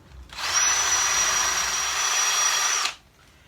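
A high-pitched power tool whines steadily for about two and a half seconds, polishing a Honda CB motorcycle engine casing, starting and stopping abruptly, close and loud.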